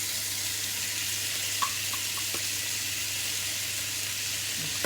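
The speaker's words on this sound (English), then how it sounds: "I'm going to add the vegetable now, so they also have the chance to cook with the fish." Fish and added vegetables frying in a pan, a dense, even sizzle like steady hissing that holds throughout, with a couple of faint clicks, close and unaccompanied by voices.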